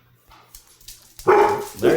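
After quiet murmuring, a dog lets out two loud, close barks in quick succession indoors, the second following about half a second after the first.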